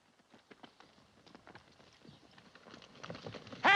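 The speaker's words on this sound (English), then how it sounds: "Those are our horses." Stolen horses' hooves clip-clop on a Western trail, a steady uneven patter of hoofbeats, faint at first and growing closer and louder toward the end.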